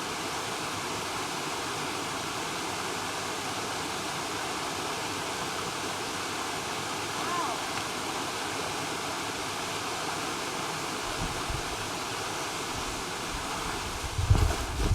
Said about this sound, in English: we reached this small river